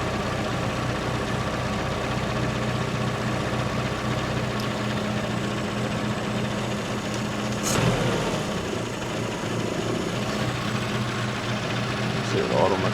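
A car engine idles at about 900 rpm while its idle mixture is adjusted, a steady close rumble that runs throughout. Someone talks over it, and a brief clatter or blip comes near the middle.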